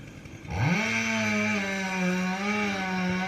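A chainsaw fells a tree in a garden. The engine revs up sharply and then runs loud and close at a steady, buzzing pitch.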